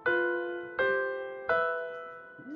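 Three ringing tuned notes from the Pelog scale, each sounded with a fourth above it, struck at an even pace and left to sustain and fade, close and clear, with a faint short tone at the end.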